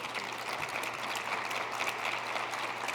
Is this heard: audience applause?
yes